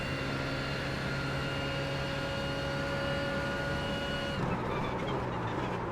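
A GT3 race car in iRacing holds a steady, sustained engine drone at high revs, then the note shifts and roughens as the throttle changes near the end. No one talks over it.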